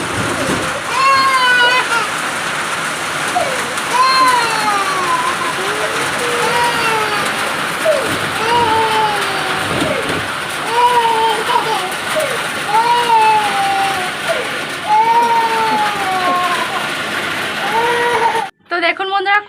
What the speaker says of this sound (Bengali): চলে আয় এদিকে, বৃষ্টি পড়ছে